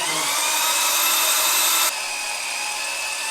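A loud, steady high-pitched whine of a drill press boring into a cradle for a stabilizer brace on a 1952 PD 4103 Silverside Greyhound bus, running continuously and then dropping in intensity near the end.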